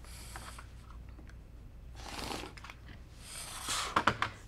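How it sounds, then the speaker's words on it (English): Quilt batting is cut with scissors, giving a few soft snipping and rustling bursts of fabric handling that come in short clusters with quiet pauses between, close and faint, with no talk. "And I will open it up and cut the 25 now."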